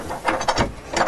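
A bonnet-style clip latch under the berth of a Bavaria 42 Vision yacht is worked by hand, giving a few short ratcheting mechanical clicks and clacks, close and moderately loud.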